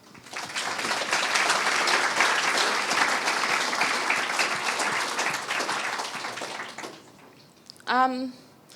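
An audience bursts into sustained applause to welcome two speakers at an arts conversation event. The clapping holds steady for several seconds, then fades, and a voice briefly follows.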